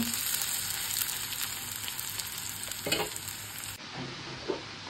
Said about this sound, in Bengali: তরমুজ ভাজি করবো, এই জন্য পেঁয়াজটা আগে একটু ভাজি করতেছি।